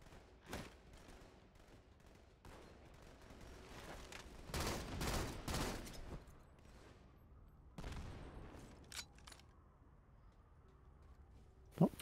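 Halo sniper rifle fire rings out in separate sharp cracks and bursts spread over several seconds, including a dense cluster in the middle and a loud shot at the very end, over quiet game ambience.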